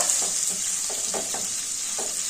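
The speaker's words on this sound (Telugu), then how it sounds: "కొంచెం వేగిన తర్వాత రవ్వ వేసి వేయించుకోవాలండి. వేయించుకోవాలి ఉల్లిగడ్డలు." Onions, green chillies and semolina frying in a pan for upma, a constant bright hiss of sizzling oil with soft rhythmic stirring scrapes, close and steady, no voices.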